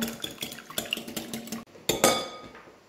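Eggs for a leek and trout quiche are beaten in a bowl, giving quick close clinks and wet taps in a rapid rhythm, followed by a short pause and a louder final splashy clatter.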